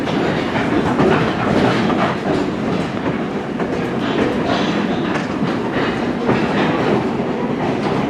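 A train rolls past on the tracks at a railway museum in Campo, California. A loud, steady rumble with rhythmic clatter from the wheels runs throughout, close by.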